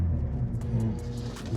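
A 2022 BMW M240i xDrive G42 engine starts up and settles into a deep, steady rumbling idle, close and loud inside the cabin.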